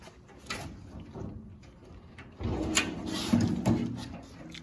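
Big drawers with double slides on a US General tool chest open and close, producing rolling metallic slides and a few sharp clunks as they reach their stops, close up and moderately loud.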